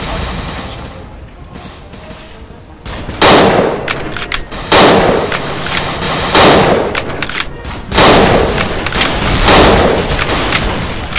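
Sniper rifle shots in the World War II dinosaur shooter Dino D-Day, several loud sharp cracks a couple of seconds apart over steady gunfire and game noise, with someone talking between them.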